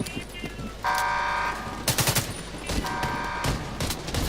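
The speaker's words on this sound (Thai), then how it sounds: "ยิงเลยครับคุณวินยิงเลย" Gunfire in the video game R2: bursts of rapid shots cut in several times over a steady in-game background hum, with a tonal game sound running between them and some speech nearby.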